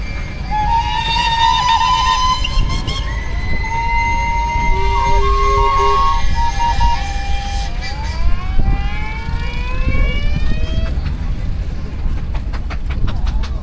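Steam trains passing at a heritage steam working weekend, a loud continuous rumble with whistles sliding up and down in pitch, and a voice speaking briefly over the din.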